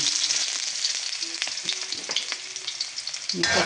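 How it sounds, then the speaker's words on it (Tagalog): Garlic sautéing in hot cooking oil in a pan, a steady close sizzle with crackle and occasional spatula scrapes, heard alone without talk. "Igisa natin sa bawang."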